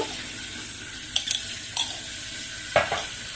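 Coriander powder and ginger garlic paste frying in a pan, with a few short sizzling bursts and light stirring scrapes over a soft steady hiss, close up and with no talking.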